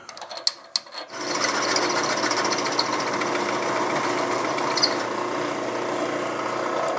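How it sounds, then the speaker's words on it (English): Drilling with a 37/64 drill bit on a Yamaha TRI-Z 250, a steady grinding whir that starts after a second of clicks and handling noise, then runs loud and unbroken at close range. "this is a 37/64 drill bit"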